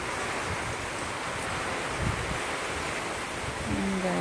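Strong wind from Typhoon Tino roars continuously, a dense broadband rush with heavy buffeting on the microphone and rustling foliage, loud and unbroken throughout.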